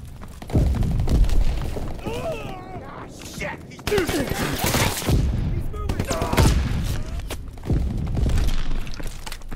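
Grenade blasts and gunfire in Call of Duty WWII team deathmatch at Sainte-Marie-du-Mont, a rapid series of loud booms and bursts under overlapping shouted voices.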